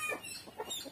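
Country chickens eating vegetables give a few soft, close clucks in quick succession, faint and brief.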